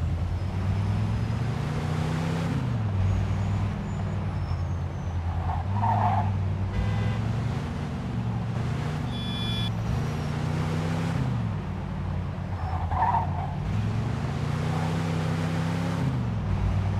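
A car engine drones steadily and loudly in the Mafia II video game, its pitch rising and falling as the car is driven, with a few brief tyre-scraping moments mixed in.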